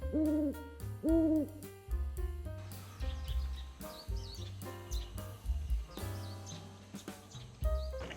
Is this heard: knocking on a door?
no